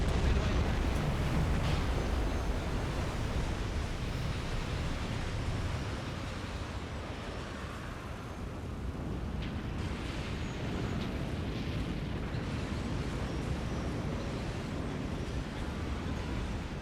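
A torpedo hit sinks a ship in the Silent Hunter 5 submarine game, heard as a long, steady, rumbling roar of explosion and churning water that fades slightly partway through and then holds, with no voices.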